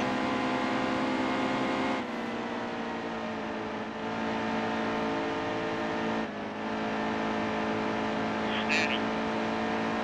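Race cars in the NASCAR Heat 2 video game drone steadily with a loud, sustained engine whine that holds nearly constant throughout, with brief dips in pitch and level as they run laps.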